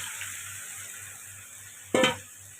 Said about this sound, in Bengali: এবার আগে থেকে রাখা আলু আর ফুলকপিটা দিয়ে দেবো।